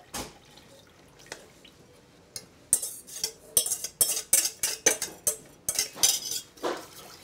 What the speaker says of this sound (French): Voilà, un petit tour de fouet.